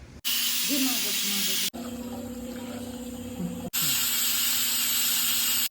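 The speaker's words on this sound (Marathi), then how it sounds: "तर मी बटाटे आणि फ्लॉवरचं कुकर लावलेला आहे" A pressure cooker holding potatoes and cauliflower hisses loudly and steadily in long sustained bursts, broken by brief gaps, with faint voices underneath.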